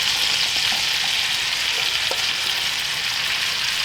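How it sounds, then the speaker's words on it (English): Minced garlic and mushrooms frying in a pan of melted butter for beef stroganoff, a loud, steady, close sizzle with a few faint stirring clicks, no talking. "we'll add the minced garlic and the mushrooms"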